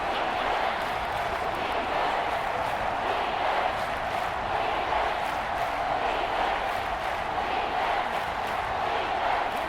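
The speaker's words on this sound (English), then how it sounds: "The Arrowhead crowd in full roar." Video game crowd at Arrowhead Stadium in Madden NFL 25, Chiefs hosting the Texans, a sustained loud roar of the stadium crowd with steady chanting texture, continuous and unbroken.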